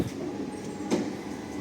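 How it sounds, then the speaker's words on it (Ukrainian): A city tram in Lviv pulls away from a stop, heard as a low steady rumble with a brief squeal or clank partway through and faint street ambience, with no talking. "Трамвайчик рушив."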